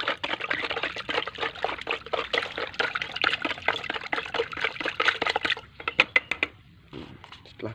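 Water-soluble fertilizer is stirred into water in a container, making continuous sloshing, trickling liquid sounds with rhythmic swirls, then a few separate splashy strokes before it trails off into quiet.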